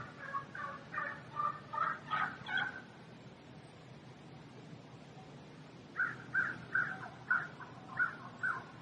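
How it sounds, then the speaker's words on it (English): Wild turkeys gobble and yelp in bursts of rapid clucking notes, one sequence then another after a pause, somewhat distant in quiet woods. "it was getting responses from turkeys all over the woods."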